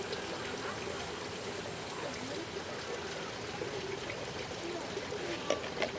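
Water trickles steadily from a small pour onto a potted Venus flytrap, a soft continuous splashing and dribbling at close range, fairly quiet, with a couple of faint knocks near the end.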